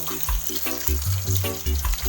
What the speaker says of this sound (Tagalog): Ihalo na natin tong bituka at balon-balunan.